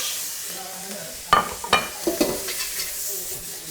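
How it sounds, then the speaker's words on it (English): Garlic, chili and preserved vegetables flash frying in a hot pan, a steady sizzle broken by several loud stirring scrapes and clatters, close up and with no talk. "I'm going to go for garlic, chili and the preserved veg."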